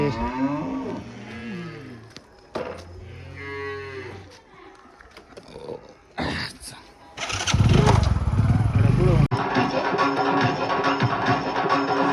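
A cow lets out two long, low moos close by, then a motorbike engine starts and revs loudly while people talk nearby.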